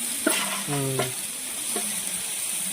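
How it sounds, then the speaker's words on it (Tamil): Rooster meat being sautéed with softened tomatoes in a pan, a soft steady sizzle under a few brief stirring scrapes and a short voiced sound, close by. "இப்போ கறியை போட்டு வதக்குறோம்"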